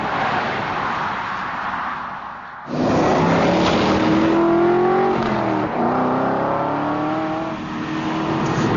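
An Aston Martin V8 Vantage accelerates hard, its V8 engine surging after a brief quiet lull, with rising revs climbing through gear changes, loud and close.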